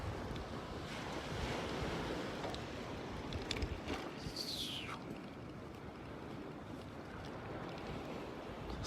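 Ocean surf and wind on Siesta Key Beach in Sarasota, heard while riding a bike along the sand: a steady, loud wash of waves with blustery wind noise on the microphone throughout.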